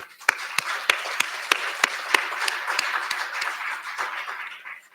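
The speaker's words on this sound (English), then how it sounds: "I think we should clap on that." Audience applause at a community event on transformative justice, a sustained crowd clapping with sharp individual claps standing out in a steady rhythm before fading toward the end.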